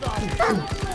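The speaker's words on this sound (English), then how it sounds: "Boy, them dogs are scary." Dogs in the World War II shooter game Call of Duty WWII give quick, rapid yips and barks in a brief, close burst, mixed with other game sounds.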